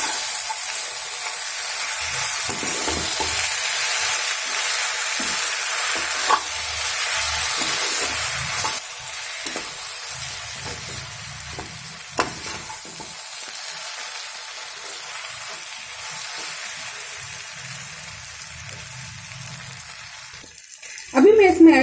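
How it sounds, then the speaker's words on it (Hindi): Garam masala being stirred into sizzling fish masala in a pan, a steady hiss of frying under occasional scraping strokes for about twenty seconds, ending with a louder clatter. "अभी इसको मैं मिक्स कर लूंगी।"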